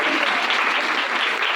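A church congregation claps together in steady, dense applause, close and loud throughout, with no pause or break in the sound.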